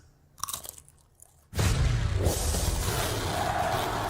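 Loud, sustained crunching of Cheesy Grooves snack chips in a TV advert, with a few scattered crisp clicks at first, then a sudden dense burst of close, continuous crunching and chewing.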